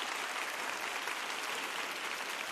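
A live audience gives continuous, even applause, a dense wash of clapping holding at a steady level throughout with no voices over it.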